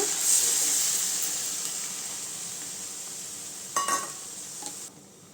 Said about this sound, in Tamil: பருப்பு சேர்த்துக்கலாங்க வேக வச்ச பருப்பு